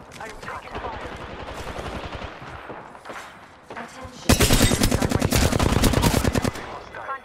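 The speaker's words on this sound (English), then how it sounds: "I'm taking shots. I'm taking fire." Gunfire in the Apex Legends battle royale on the Kings Canyon map: busy game sounds and scattered shots come first, then a loud, rapid automatic burst lasts about two and a half seconds before stopping.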